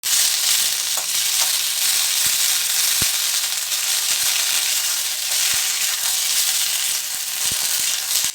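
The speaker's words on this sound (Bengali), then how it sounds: "বরবটিগুলো দিয়ে দিলাম। এগুলোকে প্রথমে ভালো করে একটু ভেজে নেব।" Yardlong beans fry in hot mustard oil in a wok, a loud, continuous close sizzle with occasional sharp clicks and scrapes from stirring.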